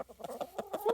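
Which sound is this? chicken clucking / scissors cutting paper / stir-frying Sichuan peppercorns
chicken clucking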